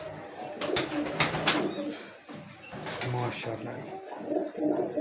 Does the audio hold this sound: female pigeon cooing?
yes